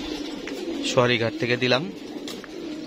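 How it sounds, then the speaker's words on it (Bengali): Racing pigeons coo in a brief burst of low, throaty calls close by, while someone speaks just before and after the cooing. "উপরে কবুতর আছে, ওই যে পরপিটেতেছে"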